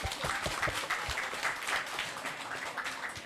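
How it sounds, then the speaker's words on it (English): Applause from the audience at a university conference plenary session, steady dense clapping from many hands filling the room, with some light background noise. "Give applause for Universitas Lancang Kuning"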